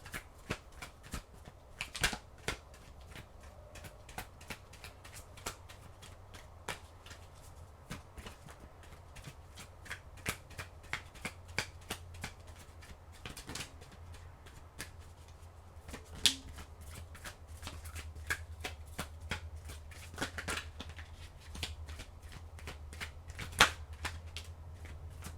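Tarot cards are shuffled close up in a steady run of crisp riffles and soft snaps that continue throughout, with no talking.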